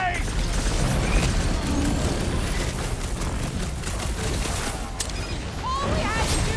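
Bombs blast through a Guardians of the Galaxy video game battle, a dense, continuous roar of explosions and crashing debris that stays loud throughout, with game voices talking over the chaos.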